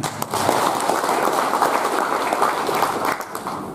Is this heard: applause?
yes